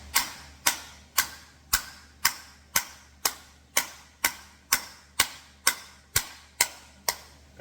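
Hammer blows on sheet metal laid over a spare 2-inch round pipe with 1/8-inch wall, the strikes sliding sideways as the panel is shaped; about twelve sharp metallic clangs land in a steady rhythm, close and loud with no talk.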